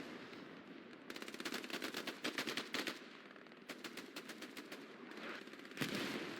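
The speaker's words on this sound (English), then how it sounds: "The PPSH just mag dumping people." A PPSh submachine gun fires in a video game, with several rapid, rattling full-auto bursts separated by short pauses, loud and close.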